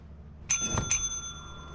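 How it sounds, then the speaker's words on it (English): Counter bell in the video game Lethal Company rung twice in quick succession, each a bright metallic ding with a long ringing tail that rings on after the second strike. "Ring it a couple more times."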